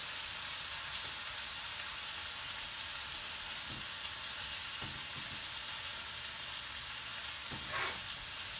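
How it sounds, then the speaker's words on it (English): Continuous crackling sizzle of roast beef frying in hot oil, steady and close, with a few soft clicks and clatters. "let's listen to it sizzle"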